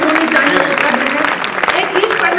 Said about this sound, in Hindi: दिनेश के लिए एक बार मेरे भाई के लिए जरूर ऐसी तालियां जोरदार उठे